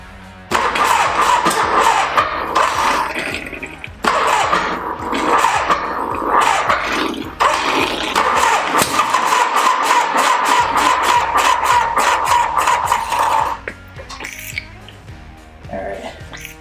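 A Harley-Davidson FXR motorcycle engine cranks, catches and runs, loud and close, a steady mid-pitched rumble that holds for most of the stretch before dropping off near the end, with a brief lull partway through.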